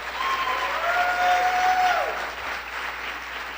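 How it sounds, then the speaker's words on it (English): An audience at a school district state-of-the-schools address gives a round of applause for the Legacy Project, a steady, full-room clapping with a faint tonal whistle heard briefly above it. "Can we give her another round of applause to the Legacy Project?"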